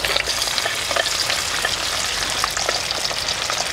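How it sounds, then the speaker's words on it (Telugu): Urad dal sizzles and crackles in a couple of spoons of hot oil in a pan, a steady close frying hiss with scattered pops and faint stirring, no voices. "నూనె వేడెక్కిన తర్వాత ముందుగా మినప్పప్పు వేసేసుకుందాం"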